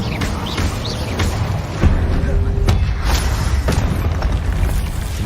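An Incendio fire spell cast in Hogwarts Legacy gameplay: a steady, loud rumbling roar with booming low end and brief sharp bursts, mixed with game sound effects and some talking over it.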